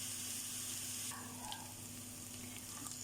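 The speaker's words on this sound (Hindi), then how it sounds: "अदरक लहसुन का पेस्ट मैंने ले लिया है। अब इसको मैं फ्राई करती हूँ।" Ginger garlic paste frying in a pan sizzles loudly and steadily, with a faint stirring scrape partway through and no talking.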